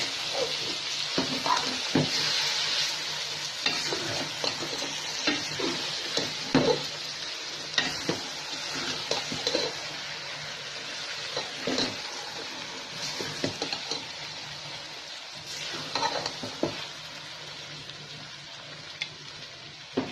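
Okra coated in spices frying in a pan crackles and sizzles continuously, with frequent clinks and scrapes of a spoon stirring and turning the pieces at a close, busy pace.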